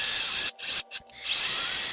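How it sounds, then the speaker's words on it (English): An M12 cordless drill running a tap to cut threads into commercial metal bench legs, a close, loud whine that stops and restarts in short bursts across two seconds. "this M12 drill really works good with these taps"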